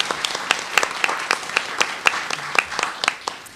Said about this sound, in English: A big round of applause for this woman